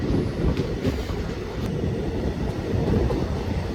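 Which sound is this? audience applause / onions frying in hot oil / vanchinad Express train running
vanchinad Express train running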